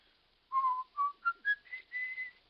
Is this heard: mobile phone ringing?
no